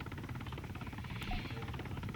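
Helicopter rotor noise from the Arma 3 military shooter, a steady, dense chopping drone filling the whole moment at a constant, fairly close level with no speech over it.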